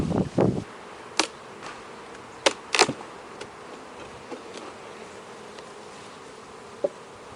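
A soft, steady buzz of many honey bees at a hive fills the background, broken by occasional sharp clicks and knocks nearby.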